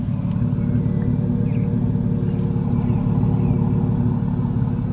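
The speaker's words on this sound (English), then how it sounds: "I'll give you a listen at the engine." A Ford Mustang convertible with a 3.8-litre V6 idles steadily up close, a continuous low rumble with no revving or talk over it.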